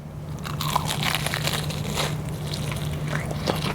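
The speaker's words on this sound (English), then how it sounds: "I'm going to take a bite into one now." Someone bites into a crunchy homemade cheesy onion ring up close, giving a loud crackling crunch followed by several more crisp crunches as it is chewed.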